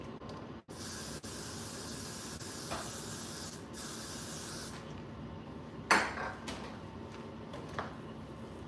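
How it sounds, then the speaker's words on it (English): A glue-free hair spray hisses in a long continuous blast close by over a sleek ponytail, followed by a few short, sharper spritzes. "I tend to use the Got to Be glue-free spray because you just really get a strong hold."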